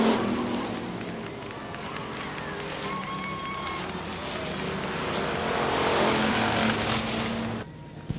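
Factory stock race cars roar past at Hartford Speedway Park in Hartford, Michigan, their loud engines droning steadily and swelling as the pack runs side by side, with an announcer's voice heard faintly over the noise.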